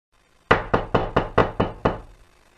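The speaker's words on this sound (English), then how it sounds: "When they reached Uncle Oliver's house, they knocked on the door." Knocking on a house door: seven sharp, evenly spaced raps in a steady rhythm, close and loud, with no talk.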